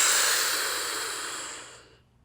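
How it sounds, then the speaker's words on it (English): A fast, deep inhalation drawn through a Twisthaler inhaler, heard close and alone as a strong breathy hiss that fades over about two seconds into silence. "Take in a fast, deep breath through your mouth until you can't breathe in anymore"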